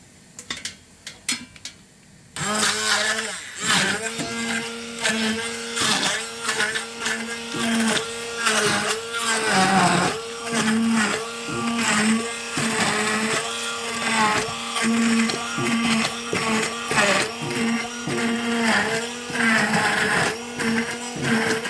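Tomato being chopped in a blender for borscht: after a brief quiet start, the motor roars loud and steady for about twenty seconds, pulsing and changing pitch as the pieces churn, with no talk.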